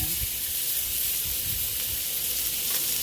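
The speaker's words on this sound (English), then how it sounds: "I'm gonna place those 2 pieces of salmon right back in that pan" Two pieces of salmon fry in oil in a pan, producing a dense, even sizzling hiss with low crackling pops, close and constant for a few seconds.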